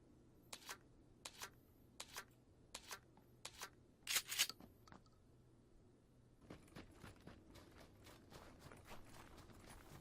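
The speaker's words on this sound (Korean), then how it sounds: "발자국 소리가 들렸습니다" Footsteps in the video game PUBG (Battlegrounds) come as a series of crisp, quiet steps spaced about half a second apart. A brief clatter follows, then a denser run of faster steps, all against a low ambient hum.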